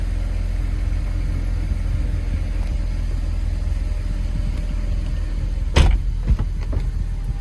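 A stock 2008 BMW 135i sits idling after a cold start. Its engine holds a steady, deep rumble from start to end, with a few sharp clicks near the finish.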